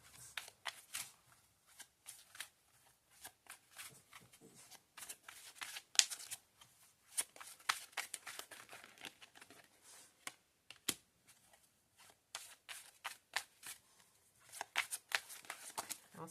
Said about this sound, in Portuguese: Vamos tirar mais 2 cartas para complementar.